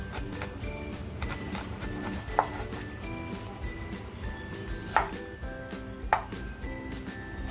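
Garlic is chopped with a knife on a board in quick, even taps, with a few sharper knocks standing out, heard close and alone with low background hum.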